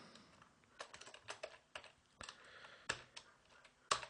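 Someone types on a computer keyboard, with irregular bursts of soft, close key clicks and a couple of sharper, louder presses near the end, in an otherwise quiet room.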